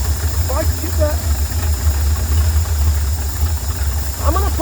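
An engine without antifreeze idles with a loud, steady low rumble and a constant hiss. Someone speaks briefly over it.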